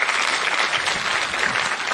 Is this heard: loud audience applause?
yes